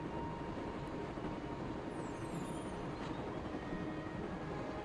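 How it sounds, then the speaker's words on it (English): A train rumbles along continuously in the adventure game Broken Sword, a dense steady rolling roar with a faint high whine, loud and unbroken throughout and with no talk. "I'm going to climb on top of the train."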